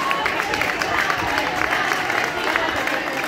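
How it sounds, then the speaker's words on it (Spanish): A gathering applauds two sisters in a continuous, fairly loud spread of crowd clapping, mixed with voices and chatter from the audience. "un gran aplauso para nuestras hermanitas"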